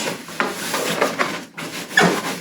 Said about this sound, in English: let me rub this one again with fur, because it keeps losing its charge